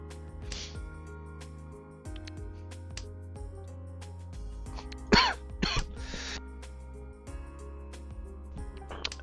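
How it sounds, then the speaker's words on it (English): A person coughing and clearing their throat while playing Riichi Mahjong online, with a few short harsh coughs, one louder pair in the middle, over quiet game music. "I'm still coughing."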